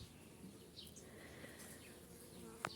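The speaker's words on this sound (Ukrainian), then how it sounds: "Ну, єдине, що псує оце все, це комарі." Mosquitoes whine faintly and steadily through a quiet spring garden with irises and roses in bloom, while soft bird chirps come in now and then over the buzzing.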